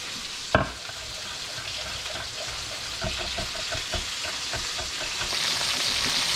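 Orange chicken pieces shallow-frying in a small amount of oil in a pan, a steady close sizzle with a sharp knock near the start and faint stirring and scraping sounds throughout.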